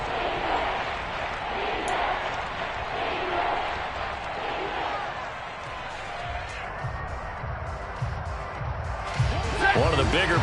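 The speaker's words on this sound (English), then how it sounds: "The crowd getting into it as we come up on a big 3rd down." A football stadium crowd roars steadily ahead of a big third down, a dense sustained wash of cheering that swells near the end, while a commentator talks over it.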